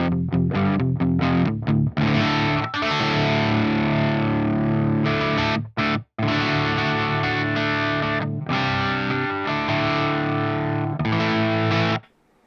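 Electric guitar run through a Mesa Dual Rectifier amp simulation plugin with the boost switched off and gain around six, playing loud distorted riffs with choppy palm-muted stabs, brief stops, and sustained chords, with no talking.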